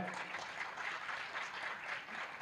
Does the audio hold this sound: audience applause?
yes